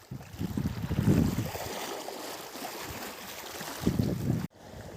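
Strong wind roars and gusts against the microphone while fishing, with low buffeting bursts that rise and fall before a sudden cut.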